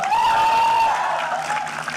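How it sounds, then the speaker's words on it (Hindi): Crowd applause at the Bigg Boss OTT Season 3 launch event, a steady wash of clapping heard alongside a sustained whistle or musical tone, loud and dense for the full moment. "ताली बजाओ एक बार जोरदार"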